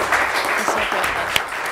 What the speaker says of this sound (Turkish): Daha kuvvetli bir alkışı da hak ettiniz.